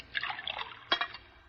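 Water trickles and splashes into a glass for a pill, close and brief, with a small burst of pouring followed by a sharper splash before fading to quiet.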